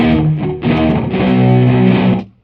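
A distorted electric guitar plays a dry sustained chord with no reverb, loud and close, then cuts off abruptly with no room tail.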